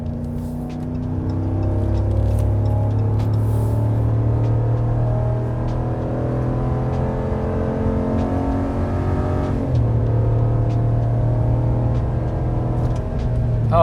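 A Ram 1500 pickup with a 5.7L Hemi V8 accelerates hard on a highway, a steady deep engine drone climbing through the gears with one shift midway, heard from inside the cab with no talking.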